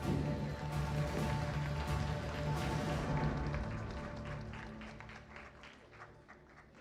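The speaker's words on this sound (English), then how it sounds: "let's clap." Audience applause at a felicitation during an India AI Impact Buildathon event, a dense round of clapping that stays loud for a few seconds and then gradually fades.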